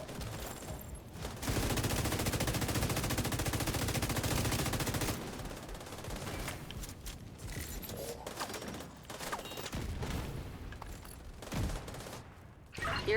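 Rapid bursts of gunfire in a video game boss fight against turrets, dense sustained automatic fire that breaks into shorter volleys, loud and continuous with brief gaps.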